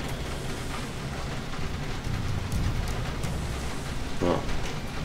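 Steady rain falls in the Twin Robots video game, a constant dense hiss with a low rumble that holds even throughout, near and fairly loud.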